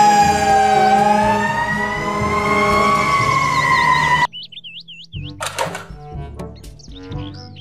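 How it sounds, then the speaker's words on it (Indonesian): A loud, wailing fire truck siren rises and sustains close by, then cuts off into short chirping yelps mixed with vehicle clunks. "Mobil truk pemadam kebakaran."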